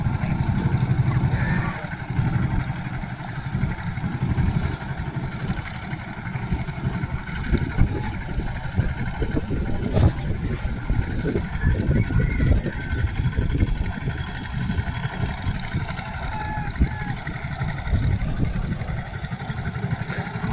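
A motorised wooden country boat's engine chugs steadily nearby on a village river, a continuous low rumbling drone with clattering texture that holds for the whole stretch, with some voices faintly underneath.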